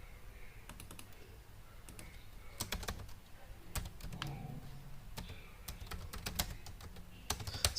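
Soft, irregular tapping on a computer keyboard, scattered keystrokes and short bursts picked up quietly, with no talking.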